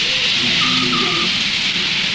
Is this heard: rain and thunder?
yes